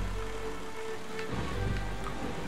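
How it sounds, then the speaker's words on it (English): Rain falling in the video game Wind Waker HD, a steady hissing patter of drops on surfaces with a low background hum, continuous and fairly loud, no voices. "since it started raining."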